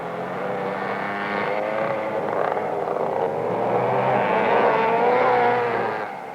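Several McCulloch go-karts from around 1961 race around a corner, their small engines droning together in a loud, continuous buzzing roar that swells slightly toward the end, with no talking.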